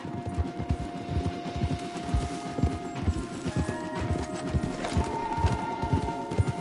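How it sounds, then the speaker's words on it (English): Horse hooves clip-clop in a quick, steady rhythm on a trail in the video game Red Dead Redemption 2, close and continuous over soft ambient game tones. "let's dismount here. We won't get the horses down this path."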